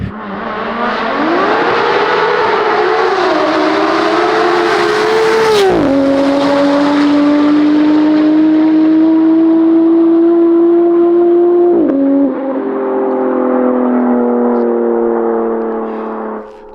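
A 900-horsepower built-motor BMW M4 revs hard and accelerates through several gears, loud and close, with sharp drops at each shift and a long rising engine note.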